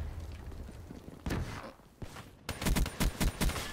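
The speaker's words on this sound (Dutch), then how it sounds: "En ik heb eigenlijk zijn kopje eraf geschoten." Sniper rifle gunfire during a Call of Duty Black Ops 3 match: a single loud shot lands after a quieter stretch, followed by a quick run of sharp, close shots over faint background game noise.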